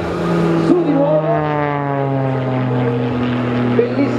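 A CAP 231 aerobatic propeller plane performing at the Garda air show, its loud engine surging and shifting pitch through a manoeuvre with a steady droning whine, close and continuous for about four seconds.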